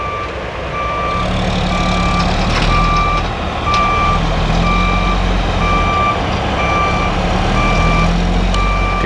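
A Caterpillar EL300B excavator loads sand into trucks at a sand pile, with a steady heavy diesel drone and a truck's backup alarm beeping in a regular, repeating rhythm throughout. No one talks.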